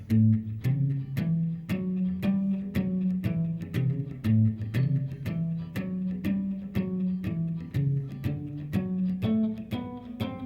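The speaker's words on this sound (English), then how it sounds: "Now, typical bass part sounds like this." On guitar, a typical blues walking bass line steps up and down the chords in even quarter notes, each low note plucked clearly, steady and close with no talk.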